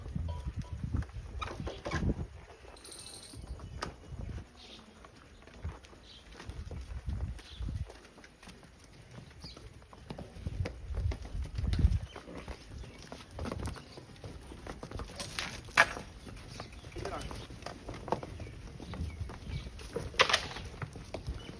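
Buffaloes leave their pen on a village farm, their hooves thudding and clopping irregularly on the ground, with occasional knocks and shuffles and no talking.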